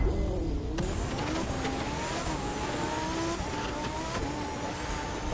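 Race cars in the video game The Crew 2 roar off the start line, with engines droning and rising in pitch as they accelerate together, loud and continuous.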